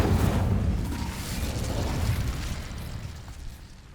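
Incendio fire spell cast in the Hogwarts Legacy video game, a loud whooshing burst of flame at the start that roars and slowly fades away over a few seconds, with no talking.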